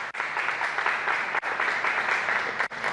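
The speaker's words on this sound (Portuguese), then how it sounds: "Uma salva de palmas para ele." A television studio audience gives steady, dense applause for a dancer during a Portuguese-language afternoon show, the clapping continuous and even from start to finish.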